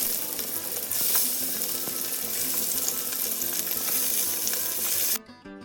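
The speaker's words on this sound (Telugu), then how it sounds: "ఇప్పుడు ఒక ప్యాన్ తీసుకుని కొంచెం ఆయిల్ వేసుకుని ఆ చికెన్ లెగ్ పీసెస్ని ఫ్రై చేసుకోవాలి" Chicken leg pieces frying in oil in a pan give a loud, steady sizzle that fills the whole stretch, with faint scrapes, before cutting off abruptly near the end.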